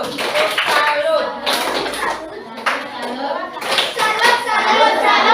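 A school class clapping in a rhythmic cheer for a group, bursts of patterned hand claps mixed with children's voices chanting along in a classroom.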